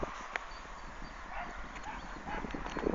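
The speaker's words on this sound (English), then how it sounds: "Some dogs barking down there." Distant dogs, likely farm sheepdogs, bark faintly a few times on a moorland crag walk, short yaps carried on open air with wind noise.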